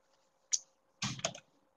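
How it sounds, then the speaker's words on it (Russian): Backspace pressed on a computer keyboard in a quiet room: one faint, light tap, then a louder cluster of clicky keystroke sounds about half a second later. "Мы нажимаем клавишу Backspace."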